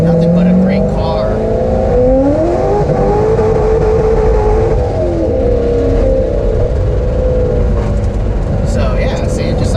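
A supercharged Corvette C5 Z06 accelerates hard through second gear, its engine note rising loud and steady with supercharger whine and revving, recorded close from inside the car.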